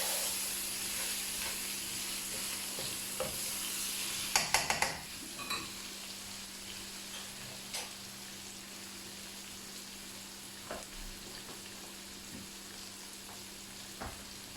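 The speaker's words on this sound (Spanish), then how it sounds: "Removemos" Pork with hot paprika fries quietly in a pan, a faint, steady hiss broken by a brief burst of stirring scrapes and a few light utensil taps.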